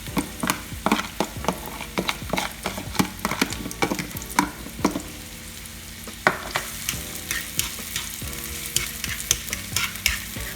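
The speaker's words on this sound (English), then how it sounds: "So right now I'm just going to add the onions. And you want to fry them up." Chopped onions for a prawn curry fry in a pan, a steady sizzle broken by repeated scraping stirs and clatters of a utensil against the metal, close and alone without any talking.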